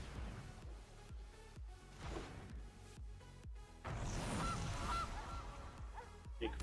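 Goose honks from a Magic Arena card in a singleton game, a few loud nasal calls over rhythmic pulsing game music.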